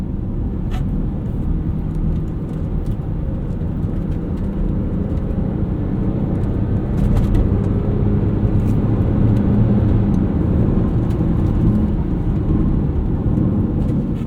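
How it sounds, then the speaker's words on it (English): A 2007 BMW X5 3.0si with its N52 straight-six engine driving along, giving a steady, smooth low rumble of engine and road noise heard from inside, continuous and moderately loud with no talking. "I also love how these engines sound from this era."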